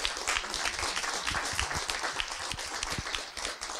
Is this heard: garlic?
no